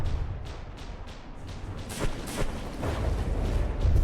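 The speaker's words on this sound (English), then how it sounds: "I'm hearing so many explosions and that all its weapons shooting me." Rapid bursts of explosions and weapons fire in From the Depths thump and crackle in quick succession, with repeated sharp blasts over a rumbling low background.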